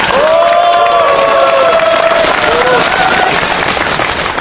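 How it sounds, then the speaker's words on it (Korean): Crowd applause and cheering at a Korean street rally by Korea Exchange Bank supporters protesting Lone Star, loud and sustained, with raised voices calling out over the clapping. "그런 의미에서 박수 보내드리겠습니다"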